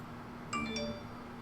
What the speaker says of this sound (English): There goes the notification.